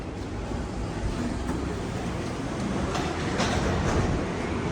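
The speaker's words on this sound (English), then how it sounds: "Oh, that train has the original Denver Airport logo on car 24." Denver International Airport's automated underground passenger train runs along its rails between concourses, a steady loud rumbling roar with rising hiss and faint clacks throughout, no talking.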